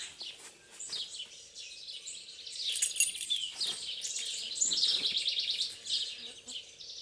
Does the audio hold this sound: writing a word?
no